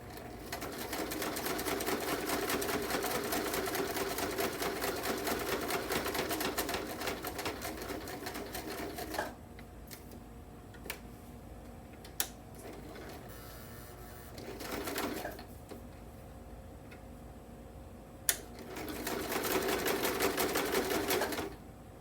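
A sewing machine runs a straight stitch on a book page tag, with sustained fast whirring bursts at the start and end and a quieter pause in between marked by a few sharp clicks.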